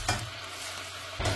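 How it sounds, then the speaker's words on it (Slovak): Butter melting into hot oil in a pan, a soft, even sizzle heard close up for a brief moment, with a couple of light clatters of a utensil at the start and end. "Zohreješ olej. Žaližicu masla."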